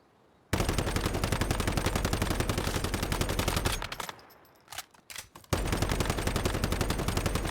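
Rapid, sustained rifle fire from a low-level weapon in the survival shooter Once Human, loud and continuous, breaking off briefly into a few scattered shots before the steady stream resumes.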